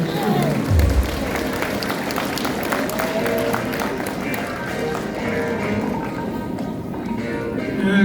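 Audience applause welcoming a speaker at a civic rally event in Gwangju, a steady crowd clapping throughout with a lively, dense texture and some crowd noise underneath.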